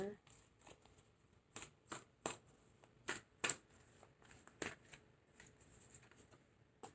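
Tarot cards shuffled close by in a quiet room, with a run of sharp, irregular riffles and slaps between softer rustles. A voice murmurs softly underneath.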